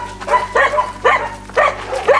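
Puppies in a pen at a dog shelter bark in a steady run of sharp, close barks, about one every half second, with some whimpering yips mixed in.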